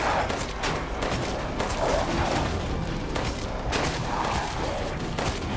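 In Resident Evil Village, a player fires a gun in rapid, dense bursts, loud and close over a noisy game-mix background, with no voices.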